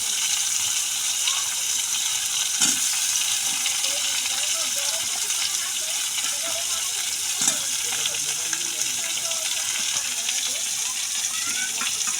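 Potatoes and chilies fry in oil with a steady, moderate hiss and occasional sharper crackles, while faint talking carries on in the background.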